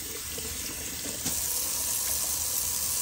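A cold-water tap runs steadily into a sink, a broad hiss of flowing water that grows a little louder partway through and then stays constant.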